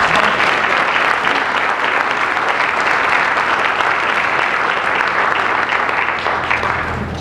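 Before an outdoor Shakespeare in the Shade performance of Comedy of Errors, an audience claps loudly for the sponsors. The applause is strong and sustained, a thick wash of many hands at full volume from start to finish.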